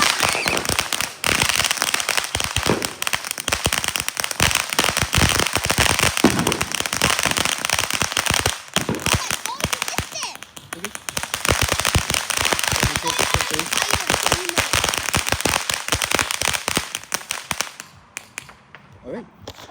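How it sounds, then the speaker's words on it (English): Fireworks and firecrackers going off in a long barrage of sharp bangs and dense crackling, loud and nearly continuous, with people's voices talking faintly underneath before the noise drops away at the end. "there's fireworks right there"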